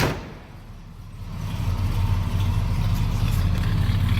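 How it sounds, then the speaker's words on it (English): The 350 Rocket V8 of a 1971 Oldsmobile Cutlass idles with a deep, steady rumble that swells slightly and then holds at a constant loud level. "Nice little rumble out of that 350 Rocket. Very healthy sounding engine."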